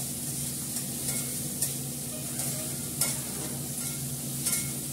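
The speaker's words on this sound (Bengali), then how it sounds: "পেঁয়াজটা একটু ভাজা ভাজা করে জিরেটা দেবো" Onion frying in a pan gives a steady, even sizzle, with a few brief scrapes of stirring rising above the constant crackle and a low mechanical hum underneath.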